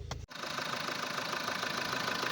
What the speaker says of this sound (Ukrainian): Двигунчик працює, не скажу, що прям там ідеально, але ну, як дизельок старенький, тарахтить собі